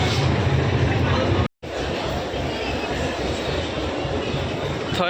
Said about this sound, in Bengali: এটাই ট্রেন শিয়ালদা আজমির আমরা এই ট্রেনেই যাচ্ছি